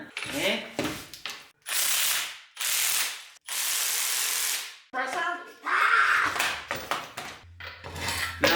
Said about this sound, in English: we are going to do the spring compressor move on them to get the old out of here